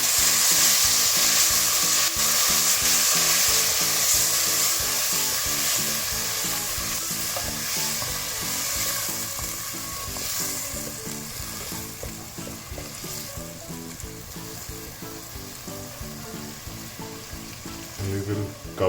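Yogurt stirred into a pan of vegetable biryani frying on the stove, a dense continuous sizzle with rhythmic scraping strokes from the spoon throughout, close and steady.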